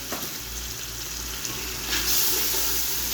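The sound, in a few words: chopped pumpkin frying in spices on high flame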